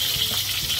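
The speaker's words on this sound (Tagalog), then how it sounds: "paghalo ng shrimp natin" Shrimp stir-fried with light soy sauce sizzle in a hot pan, a brief steady close frying hiss with soft stirring.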